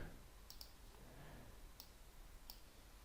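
Three sharp, faint mouse clicks in Excel, spaced about a second apart over a steady low room hiss.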